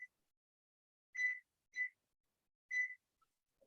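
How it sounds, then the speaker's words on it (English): A kitchen timer being set before baking in a home kitchen, giving three short faint high beeps spaced about half a second to a second apart, alone in a quiet room. "Set my timer."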